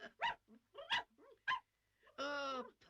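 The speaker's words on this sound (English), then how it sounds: "I can hear a dog barking too." Small woolly Pomeranian-type dog yapping in a few quick, high yips, close and clear, followed by a longer drawn-out whine.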